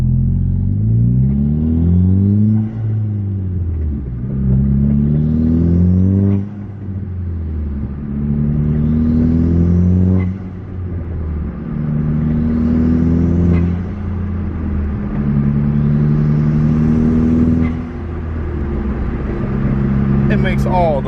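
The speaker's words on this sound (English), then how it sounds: "It makes all the wonderful turbo noises." A modified Nissan NISMO Juke crossover engine revs up again and again from idle, each climb carrying a rising turbo whistle, about five loud, close rev cycles in a row.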